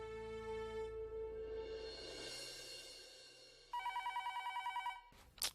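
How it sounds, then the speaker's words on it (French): A telephone rings in a home, its bell pattern repeating as a tonal chime that changes into a rapid pulsing trill near the end, moderately loud and clear with no talk over it. "Ce téléphone sonne toujours quand je suis occupée."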